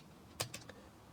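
A few quiet keystrokes on a computer keyboard, three distinct clicks spaced closely together, faint against a near-silent room.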